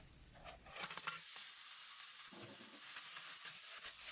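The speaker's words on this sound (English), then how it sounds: "Stir fry everything together for a few seconds." Clams stir-frying in a wok with ginger, scallion, garlic and chili sizzle steadily, with sharp clattering stir strokes early on before the hiss settles into a quieter, continuous fry.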